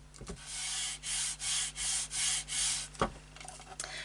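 Scrapbook paper smoothed into place by hand, six even rhythmic rubbing strokes close up, each a soft papery swish, followed by a couple of light taps and handling noises.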